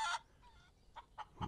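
In the video game Barn Finders, a chicken lets out a sharp cluck followed by a quick series of softer, clipped clucks close by, with no talking.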